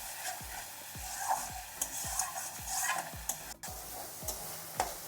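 Katla fish curry masala frying in a pan for a Bengali fish curry, with a spoon scraping through it in regular strokes about every half second over a low, continuous sizzle.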